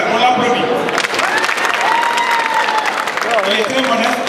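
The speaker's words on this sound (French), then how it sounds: "On l'applaudit." Audience clapping at a Senegalese storytelling event, a steady dense wash of applause from a nearby crowd lasting throughout, with voices and faint tonal sounds mixed into it.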